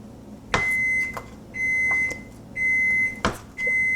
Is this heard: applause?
no